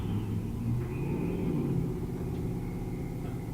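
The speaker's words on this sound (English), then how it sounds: "that mail truck sounds good." A deep, steady engine rumble, heard near and loud, continues throughout with slight surging and no speech over it, though the exact vehicle cannot be confirmed.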